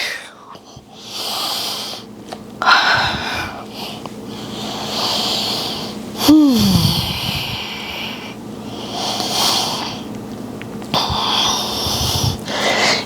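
Slow, audible yoga breaths during a flow, an airy exhale into a forward fold and then further long inhales and exhales, close and soft, with a brief voiced sound in the middle.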